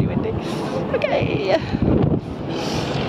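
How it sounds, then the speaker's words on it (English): Strong gusting wind buffets the microphone on Brighton Pier during a suspended fairground ride, with a steady rushing roar throughout and voices partly audible underneath. "It's really windy."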